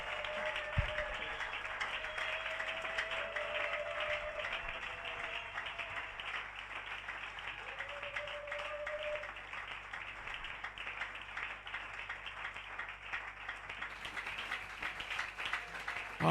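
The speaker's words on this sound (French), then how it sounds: "Est-ce que tu peux mieux acclamer le Seigneur?" Congregation in a church applauding to acclaim the Lord, a faint, continuous wash of clapping from a large crowd that holds steady throughout, heard at a distance.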